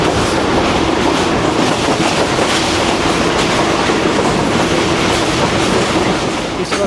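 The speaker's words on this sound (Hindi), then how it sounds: "दरियाए चिनाब का पुल जो कि काफ़ी ज़बरदस्त तरीके से ट्रेन ने क्रॉस किया है" Rehman Baba Express rumbling across the Chenab river bridge in Pakistan, a loud, steady, close roar of wheels and carriages with faint clickety-clack throughout and no pauses.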